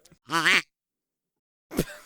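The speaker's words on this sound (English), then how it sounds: "Oh, that's a duck call." A single nasal, quacking duck call sounds briefly and fairly loud, followed after a pause by a shorter low grunt-like burst, with otherwise silent surroundings.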